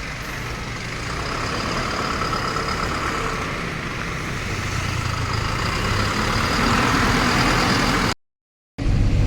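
A loaded goods truck carrying poultry feed rumbles loudly and steadily as it shunts back and forth. The heavy engine drone continues unbroken except for a brief dropout near the end.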